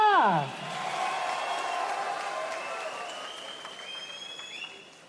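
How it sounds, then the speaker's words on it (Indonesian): Audience applause at an Indonesian presidential campaign event on social forestry, sustained clapping from a crowd that continues steadily and slowly fades, with a brief descending tone at the start and faint whistles later. "Lebih meriah lagi tepuk tangannya."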